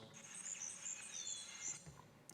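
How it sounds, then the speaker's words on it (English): Forest ambience with birds: high, faint chirps and tweets over a soft, quiet background. "I have some forest sounds"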